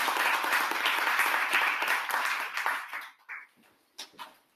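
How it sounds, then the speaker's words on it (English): Applause from a theatre audience, dense and steady for about three seconds, then fading into a few scattered last claps. "Please give a round of applause."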